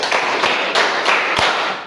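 A class of students claps hands together five times in a row, loud and close, with sharp separate bursts at a steady rhythm inside a school classroom.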